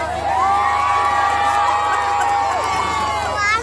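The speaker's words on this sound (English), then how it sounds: "huge round of applause, lots of cheering for the kids" A large outdoor crowd, children among them, cheers, whoops and shouts continuously at the unveiling of the Mary Barbour statue, with loud, excited voices rising and falling throughout.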